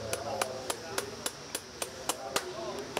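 Horseshoe nails are hammered into a gaited horse's hoof with an aluminum shoe, a steady series of about ten sharp, close metallic taps at an even rhythm.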